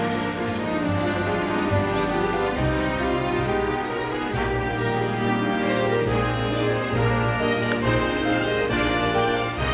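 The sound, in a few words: birds singing on Lishan Ecology Reserve Trail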